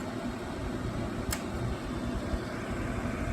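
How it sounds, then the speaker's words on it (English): An older Holmes heater runs in fan-only mode, giving a steady, even whoosh of moving air with a constant low hum and no breaks, heard alone. "They work better as kind of white noise machines if you just leave them on the fan mode."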